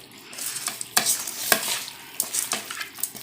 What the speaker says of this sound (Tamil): அப்போ தான் அந்த மசாலா எல்லா இடத்துலையும் கறியில் வந்து நல்லா பரவுற மாதிரி நல்லா பிசைஞ்சு மிக்ஸ் பண்ணுங்கள்.